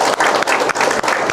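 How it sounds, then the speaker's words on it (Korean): Audience applause at a Confucian culture lecture hall, a steady dense patter of clapping from a seated crowd filling the short moment with no talk over it. "박수 한번 해주세요."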